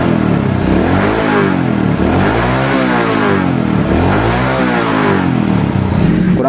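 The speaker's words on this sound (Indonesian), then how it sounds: "Nah sekarang kita coba gas kenceng." A Honda Supra X 100 motorcycle engine revs hard in repeated rising and falling sweeps, loud and close, with no talk over it.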